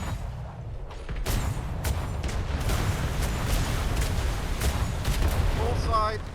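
Ship cannons firing a broadside in a Royal Navy roleplay game: a thick, sustained rumble of overlapping booms with sharp cracks breaking through, and a faint voice near the end.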